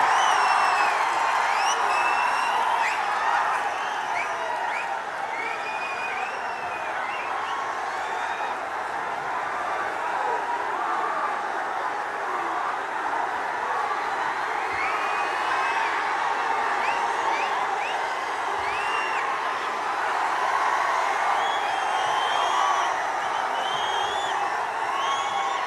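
A large crowd at a BRS political rally for KCR applauds and cheers continuously, a dense roar of clapping with scattered whoops and shouts, steady and loud throughout, sounding outdoors and spread wide.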